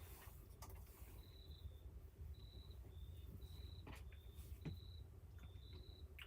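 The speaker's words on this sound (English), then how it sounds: "Crickets are noisy tonight." Faint, high cricket chirps repeat at night in short trills against a quiet, low hum, spaced about half a second apart with a few soft clicks between them.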